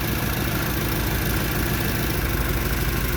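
A 1978 Camaro V8 fitted with Holley Sniper EFI idles steadily while warming up, giving a constant dense rumble and hum with no talking.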